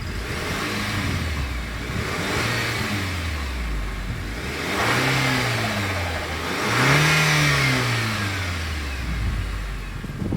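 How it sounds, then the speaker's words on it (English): Exhaust of a 2026 Nissan Kicks revving, the engine climbing and falling through several throttle blips over a steady idle, loud and close with no talk. "As always, here is that exhaust clip."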